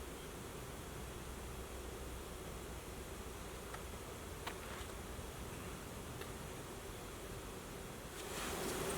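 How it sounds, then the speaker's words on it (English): Bees swarm in a tree, a faint, dense, continuous buzzing hum held steady under a broad outdoor hiss, with a few louder passes near the end. "That tree is full of bees."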